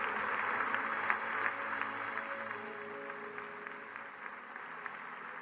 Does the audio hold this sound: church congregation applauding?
yes